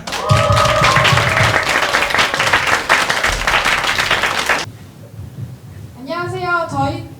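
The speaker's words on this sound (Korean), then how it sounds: "저희와 함께 큰 박수로 맞이해 볼까요?" Loud audience applause at a book concert, a dense burst of clapping for about four and a half seconds with voices mixed in, which stops abruptly before a speaker begins talking.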